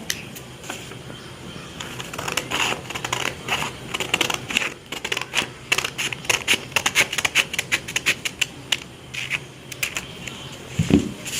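Scissors snip through white paper being trimmed to a square for origami, a run of quick crisp cuts and rustles in close succession with faint paper handling between them.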